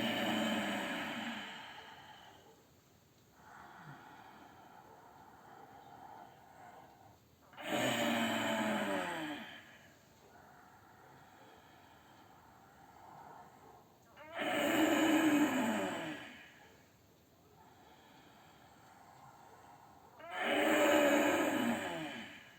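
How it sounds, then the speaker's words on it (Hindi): Slow, deep yoga breaths: four long, loud inhalations or exhalations roughly every six to seven seconds, with quieter breathing between them, close and alone without talk. "सांस निकाल के नीचे लाइए नाभि तक। फिर सांस भर के ऊपर उठाइए"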